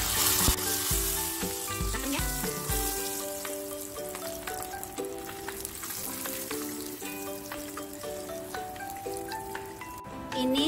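Mujair tilapia fish fry in hot oil with a steady, dense sizzle and crackle, loud and close in a home kitchen. Music plays underneath.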